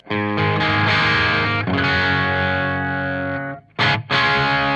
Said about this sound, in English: the clean sound is this on the bridge pickup